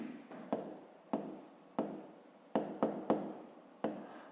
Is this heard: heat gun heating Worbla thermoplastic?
no